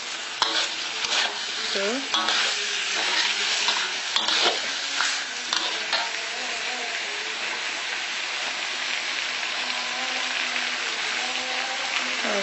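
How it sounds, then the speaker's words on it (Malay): Spicy tuna is stirred in a frying pan with onions, giving a steady sizzle with scraping of the utensil against the pan, close and continuous, while someone speaks briefly over it. "Tu kita kacau bagi sebatu."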